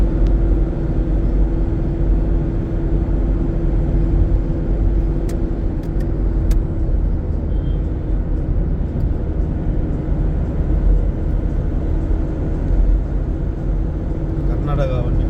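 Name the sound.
container lorry from Karnataka driving past on highway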